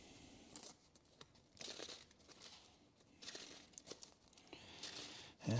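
A Magic: The Gathering Commander deck being shuffled by hand, with repeated papery riffles and soft card slaps arriving in uneven bursts, close and fairly quiet, and no voice over it.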